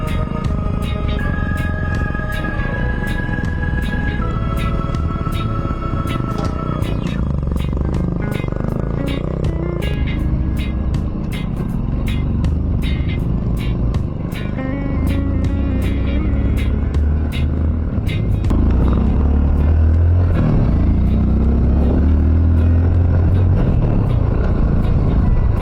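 Motorcycles ride on a hilly road trip to Pigtauranan Lake, a steady engine rumble running loud and close throughout, with a voice talking over it.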